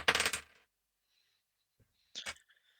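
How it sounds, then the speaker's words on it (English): Dice clatter across a tabletop during a tabletop roleplaying game session, a quick burst of rattling hits followed by a quiet gap, then a second, shorter clatter and a few small trailing ticks. "It sounds like dice are flying everywhere."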